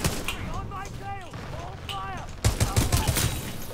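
A G2 rifle fired from the hip in a video game cracks out as a rapid burst of sharp shots near the end, after a stretch where someone talks over quieter game sounds.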